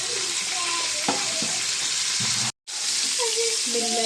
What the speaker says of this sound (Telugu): దీంట్లో కట్ చేసుకున్న క్యారెట్ ముక్క బాగా ఫ్రై అవ్వాలి